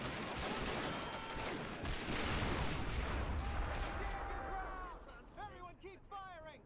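Dense, continuous gunfire and distant explosions rumble through a World War One Western Front battle in a video game. Shouted voices and whistling incoming shells rise over the din near the end.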